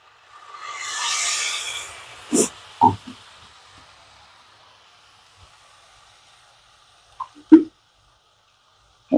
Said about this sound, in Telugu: ఒక 1/2 కప్పు వాటర్ వేస్తున్నా అండి.